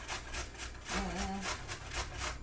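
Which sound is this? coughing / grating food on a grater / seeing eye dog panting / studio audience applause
grating food on a grater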